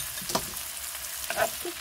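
Seafood stir-frying in a hot pan with vegetables for Hong Kong crispy noodles, giving soft sizzling and a few brief stirring scrapes, quiet and close.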